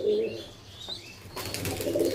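Pigeons in a loft coo softly in low murmurs, with a short burst of wing flapping midway, against a faint background hum and no clear speech.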